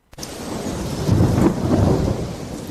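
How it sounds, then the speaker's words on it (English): Heavy rain pours steadily while a deep rumble of thunder rolls in and swells, loud and close, with no voices. "It was raining"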